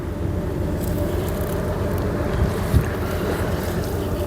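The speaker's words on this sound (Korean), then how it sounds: "역시 바다에 나오니까 바람이 시원하게 좋네요" Wind blows hard on a boat out at sea, a steady, loud rushing roar buffeting the microphone with no talk, and a couple of faint low knocks near the end.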